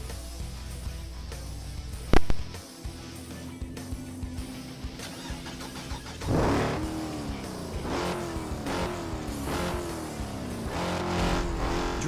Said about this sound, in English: enjoy me driving my favorite car in the game for now